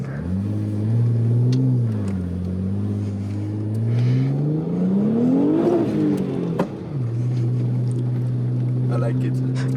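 An Audi RS4 B5 driving on snow revs its engine, the pitch swelling, dropping and then climbing to a sharp peak before settling into a steady drone, close and loud under people's talk.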